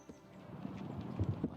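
Horse hooves clip-clopping in a video game, a few uneven soft thuds growing firmer toward the end, fairly quiet and set under a low background murmur.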